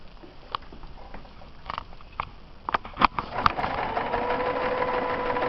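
A Singer sewing machine set to straight stitch gives a few scattered clicks and knocks, then starts running into a steady, close mechanical whir that carries to the end.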